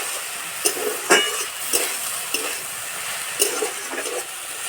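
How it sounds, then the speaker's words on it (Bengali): Potato slices frying in a pan over low heat, a steady soft sizzle broken by several short stirring scrapes spread through the moment, close and without voices. "এইভাবে হালকা আঁচে কিছুক্ষণ ভেজে নেব।"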